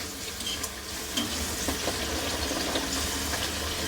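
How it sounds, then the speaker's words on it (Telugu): Puris fry in hot oil in a home kitchen, a steady close bubbling sizzle with small crackles and no talking. "నూనె వేడైతేనే మనకు పూరీలు అనేది మంచి పొంగుతాయి"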